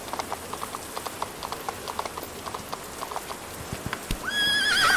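Hooves clip-clop in a steady trotting rhythm, close and clear, ending with a loud horse whinny that rises over a rushing background.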